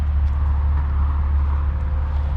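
A 2019 Audi RS5 Sportback's engine and exhaust hold a steady, loud, low rumble, like a constant idle heard close by, with no voices over it.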